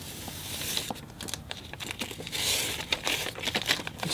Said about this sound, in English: So as I peel off the tape here